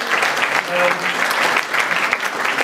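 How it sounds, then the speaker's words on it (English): An audience at a comic festival in Munich breaks into a dense, even round of applause, many hands clapping together at close range for a few seconds. "And I think he get a bit applause."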